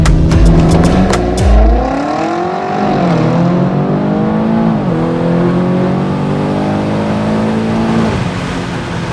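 A BMW X5M F85 launches at full throttle, its engine roaring and climbing in pitch, briefly dropping at each upshift before surging again, loud and close throughout.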